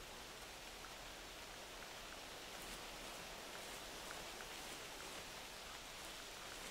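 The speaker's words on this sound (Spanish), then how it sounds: "Se va a poner a llover." Steady, dense rain in The Hunter Classic hunting game on the Timbergold Trails reserve, a continuous even hiss that holds at constant loudness throughout, with no voices.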